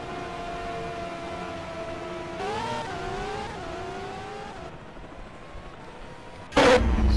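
A race car in a sim racing game pulls out of the pits at Jerez, its engine a steady tonal hum that climbs in pitch through a few gear changes, then ends in a brief loud burst of noise.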